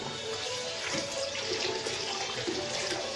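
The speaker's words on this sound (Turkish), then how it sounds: "Saçını mı yıkıyorsun?" Water runs continuously from a tap while a child's hair is being washed, a soft, steady splashing rush at low volume with no voices.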